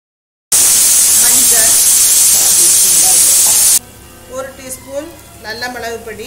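Chopped green chillies sizzle and hiss loudly in hot oil in a pan while mutton brain fry is being cooked, a steady, bright frying roar that cuts off abruptly and gives way to a woman's speech over a faint background.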